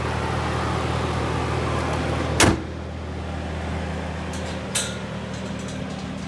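A 2012 Cadillac CTS-V wagon with a 6.2-liter supercharged engine idles steadily at close range, a low continuous rumble, with a sharp thud partway through and a fainter knock later.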